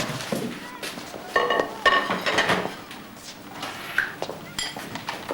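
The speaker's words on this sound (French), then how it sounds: "Frédéric, tu m'aides à faire la vaisselle, s'il te plaît?" Dishes and cutlery clink and clatter during dishwashing at a kitchen sink, with scattered knocks and a few sharper clinks of crockery and utensils.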